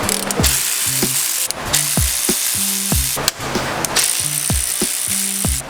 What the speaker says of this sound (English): So we're going to start unbolting these.